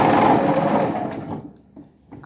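A sewing machine stitches fabric in a steady, loud, continuous whir that runs for over a second and then stops, leaving near silence with faint handling noise.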